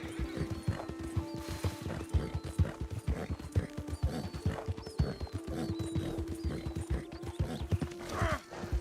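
Horse hooves clip-clop in a steady, busy rhythm close by, with a brief whinny rising over the footfalls; a faint voice occasionally murmurs underneath.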